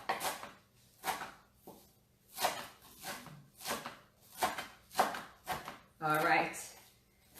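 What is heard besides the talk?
chopping vegetables for a green salad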